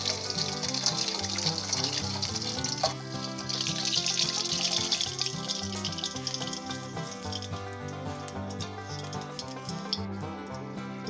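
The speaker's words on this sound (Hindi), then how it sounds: "अब इसमें हम 1 कप पानी शामिल करेंगे।" A hissing, sizzling rush of a cup of water poured into hot ghee, strongest in the first few seconds, with steady background music playing throughout.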